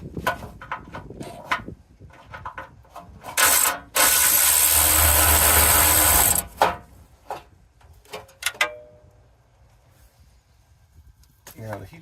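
Bolts come off a vehicle heat shield during a Chinese diesel heater install, with clicks and clanks, a sustained burst of a power driver for a few seconds, and scattered metallic taps, heard close amid some talk.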